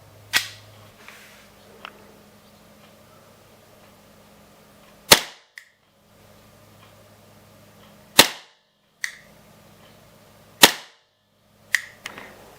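A WE Tech F226 gas airsoft pistol fires through a chronograph: five sharp, loud cracks spaced a few seconds apart, each followed by a faint clack, with quiet between shots.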